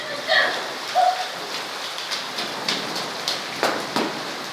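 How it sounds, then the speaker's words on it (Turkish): Heavy rain pours outdoors in a steady hiss of drops striking surfaces, with a few brief brighter splashes and spatters standing out near the start. "Arkadaşlar çok berbat yağıyor."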